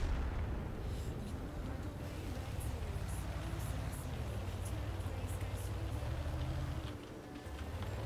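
Rumbling artillery fire and explosions in the tank battle game World of Tanks, a continuous heavy low boom with scattered sharp cracks on top, loud and close before easing off near the end.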